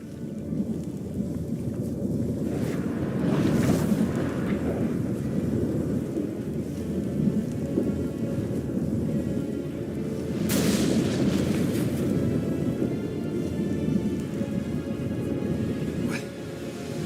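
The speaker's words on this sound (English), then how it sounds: "That a storm?" A thunderstorm in the video game Witcher 3: a steady roar of heavy rain and wind, with deep rolling thunder swelling through and two sharper cracks standing out, continuous and loud, no talk.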